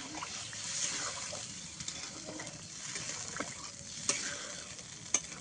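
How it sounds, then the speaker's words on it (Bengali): Pumpkin-leaf curry stirred in a pan just after water is added, a steady soft sizzle with scraping spoon strokes and a few sharper clinks throughout, fairly close and alone without talk. "জল দিয়ে দেবো এবার এবার নেড়ে নেবো"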